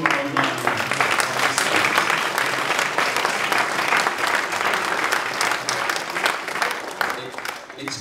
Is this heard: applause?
yes